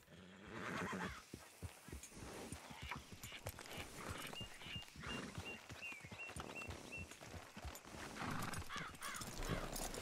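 A horse in the Red Dead Redemption 2 video game whinnies loudly and close, with clip-clop hoofbeats and outdoor bird caws around it.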